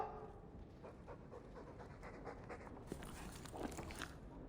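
A Mabari war dog in the video game Dragon Age 2 pants in quick, steady breaths, fairly quiet and close, with no speech over it.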